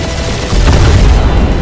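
Dense, loud rumbling gunfire and booms from rows of turrets in a space dogfight in the video game Guardians of the Galaxy, a steady barrage that swells louder partway through with no pauses.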